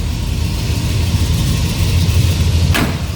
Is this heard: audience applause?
no